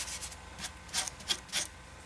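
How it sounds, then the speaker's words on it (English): Shellac sanding sealer is rubbed by hand onto a dried-out piece of wood, a soft close rasping with several distinct strokes, quiet and alone. "I'm just putting some shellac on here for a sanding sealer"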